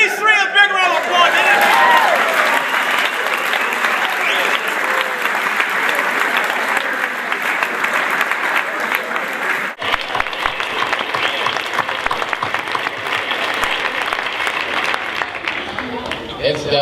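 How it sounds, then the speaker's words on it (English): Enthusiastic applause at a celebration of life gathering, a crowd clapping loudly and continuously with some cheering and chatter mixed in, sustained for the full stretch with a brief dip midway. "Give these three a big round of applause."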